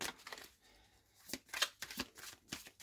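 Deck of oracle cards being cut and shuffled by hand, quick papery riffles and flicks in short bursts, close and fairly quiet.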